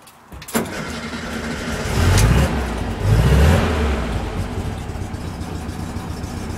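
A 1959 VW Double Cab with a 1904 stroker engine and dual 44 Webers cranks over and catches with a couple of rising revs, then settles into a steady, loud idle.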